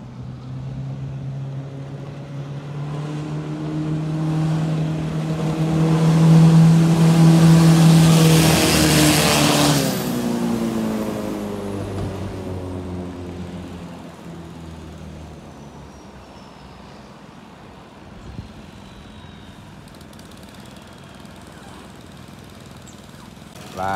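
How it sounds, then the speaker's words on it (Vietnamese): A 5.4 m speedboat with a Zki 120 hp engine driving a water jet revs up, its motor note rising to a loud peak and then slowly fading as the boat runs farther off. "Và chiếc cano 5m4 lắp cái động cơ Zki"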